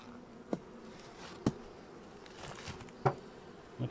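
Honeybees in a weak beehive with few bees on the outer frames, a faint, steady buzzing under low background noise, broken by four sharp knocks or clicks from handling the hive.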